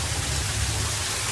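Waterfall at Happyfunland park in Surunga, Jhapa, a steady hissing rush of falling water, fairly close and unbroken, with no voices over it.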